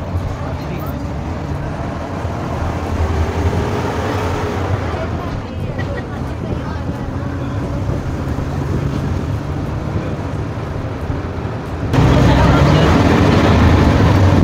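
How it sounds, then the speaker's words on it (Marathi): An MSRTC ST state transport bus pulls away and travels from Talegaon toward Mumbai, giving a steady, close engine and road rumble that grows noticeably louder near the end. "आता एसटी आपली सुटलेली आहे तलेगाव मुंबई"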